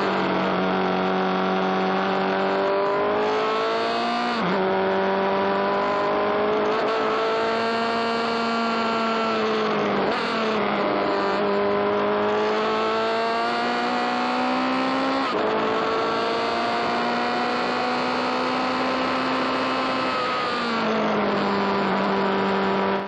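Race car at Mid Ohio during an SVRA vintage race, its engine droning loud and close from the cockpit, revs climbing and dropping in repeated sweeps through gear changes and corners.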